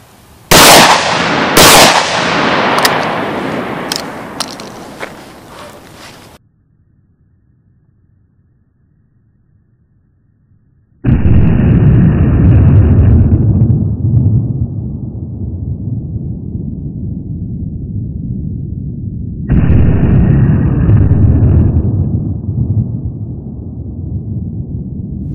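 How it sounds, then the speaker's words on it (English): A 12-gauge sawed-off coach shotgun with 11-inch barrels fires slugs outdoors: a few sharp, loud blasts with echo decaying to near silence, then two long stretches of steady rumbling noise. "Have you ever wondered what the muzzle blast looks like with a slug being shot through 11-inch barrels?"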